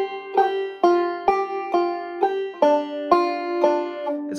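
A banjo plays a measure of The First Noel using a reverse roll, with about nine clear plucked notes in an even rhythm. Each note rings out briefly and alone, and the line ends on a sliding note.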